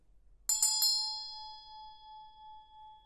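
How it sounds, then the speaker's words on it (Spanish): A Tibetan ritual bell set with turquoise and made of tumbaga is struck about three times in quick succession, leaving a clear, bright metallic ring that sustains and slowly fades over several seconds in a quiet room. "La campana, suénala, porque alinea chakras."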